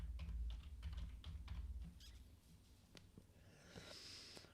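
Rapid keystrokes patter on a computer keyboard at close range over a low hum, the typing easing into sparser taps.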